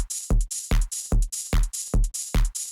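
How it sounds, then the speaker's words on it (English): Heavily clipped, distorted drum beat with punchy kick hits landing about every 0.4 seconds, each followed by bright, crunchy high-end bursts, loud and dense with no gaps between hits. "And then the drums, these are all clipped."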